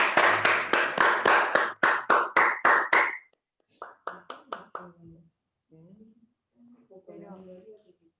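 An audience at a talk-show style event claps for about three seconds in a steady, rhythmic beat, then someone speaks over the quiet room.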